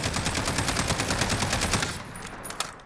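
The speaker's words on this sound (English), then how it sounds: "I'm going to just fire ADS without controlling the recoil at all" An MK 17 rifle in Call of Duty: Modern Warfare fires aimed down sights in one long, rapid, evenly paced burst of loud shots lasting about two seconds. A few scattered clicks and tails follow as the burst ends.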